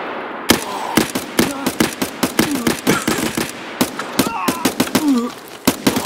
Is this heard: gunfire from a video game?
yes